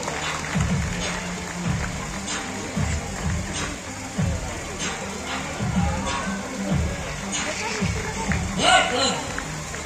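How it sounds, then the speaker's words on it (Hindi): Audience applause rises and falls at a family circus show in Ambernath, mixed with crowd hubbub and steady nearby talking. "तालियां बजाइए"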